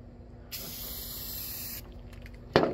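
Aerosol spray paint hissing onto an Estes Hi-Flier XL model rocket in a sand-paint finish, one steady close burst of about a second and a quarter, then a short sharp knock near the end.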